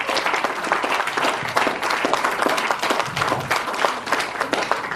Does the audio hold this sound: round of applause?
yes